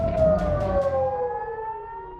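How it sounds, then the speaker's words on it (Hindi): An air raid alert siren in Israel holds a steady wailing tone during an Iranian missile attack while dull thumps sound beneath it, then the rumble fades and the siren drones on alone. "पूरे इजरायल में अलर्ट सायरन की गूंज और मिसाइलों की आवाज सुनाई दी गई"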